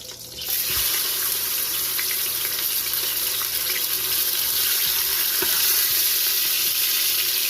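Bigger pork chops sear in a hot Instant Pot, giving a loud, steady sizzle that starts with a sudden burst as the meat goes in and then holds constant, with no talking.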